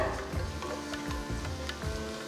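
Onions frying in a pan until golden brown, a steady close-up sizzle with light stirring scrapes and soft rhythmic bumps.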